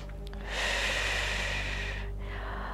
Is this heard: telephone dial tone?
no